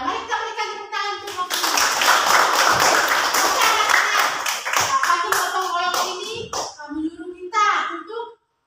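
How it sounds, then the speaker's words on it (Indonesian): Children in a classroom clap for a student named Novli, a dense burst of applause lasting several seconds, with kids' voices speaking before it and continuing through and after. "mari kita berikan tepuk tangan untuk Novli"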